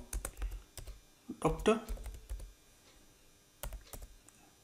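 Someone types an SQL command on a computer keyboard, with sparse, close key clicks arriving in small bursts and single taps, and a brief spoken word in the middle.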